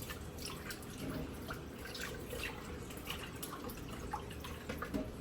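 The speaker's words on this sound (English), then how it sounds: "So I just want to rinse these off on chicken wings." Chicken wings being rinsed under a running tap in a Jamaican home kitchen, with a steady faint trickle and irregular splashes and drips of water, fairly quiet and without talk.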